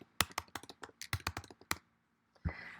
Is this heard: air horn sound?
no